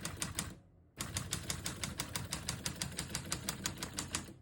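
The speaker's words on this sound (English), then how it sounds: "We're going to keep that on single for now and finish typing." Steady, rapid typing on a 1939 Corona Standard Flat Top portable typewriter: a brief flurry of keystrokes, a short pause, then a long even run of crisp mechanical key strikes, close and clear with no voices.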